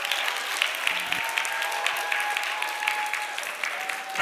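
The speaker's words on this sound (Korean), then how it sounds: "박수하겠습니다." Applause from a young-adult church congregation, many hands clapping steadily and briskly for several seconds, fairly close and lively.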